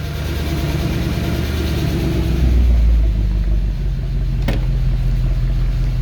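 A 2011 Mercedes E63 with 130k km idles while warming up after maintenance, giving a loud, steady low engine rumble that swells briefly and then settles, close by with no talk.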